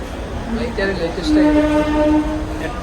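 A late train pulls into the station, rumbling with a long, steady horn-like tone rising over the noise, and voices murmur faintly in the background.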